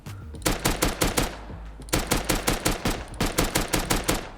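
Rapid semi-automatic gunfire with a weapon attachment in the video game Rust, two bursts of a dozen or so evenly spaced loud shots each, split by a short pause, with no talking.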